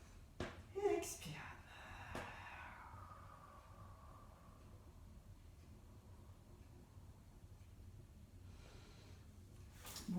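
A person exhales during an intermediate Pilates exercise, one long breathy outward breath after a brief sniff and a few quiet handling sounds, close to the microphone with a faint noisy room behind.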